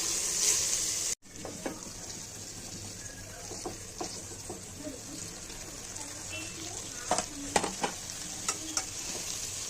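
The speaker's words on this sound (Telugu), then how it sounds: "మనం ముందుగా రెడీ చేసుకున్న బాస్మతి రైస్ని ఇప్పుడు ఈ ఫ్రై అయిన దాంట్లో వేసేసుకున్నాం." Basmati rice tossed into fried vegetables in a pan for vegetable fried rice, a steady soft sizzle with scraping and stirring knocks of a spoon, close and moderately loud, no talking.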